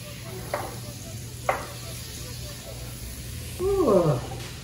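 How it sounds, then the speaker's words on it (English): Butter melting in a hot pot to start a roux gives a soft steady sizzle, with a couple of light clinks and a brief louder stirring scrape near the end. "I'm gonna put my butter in because we're gonna start our roux"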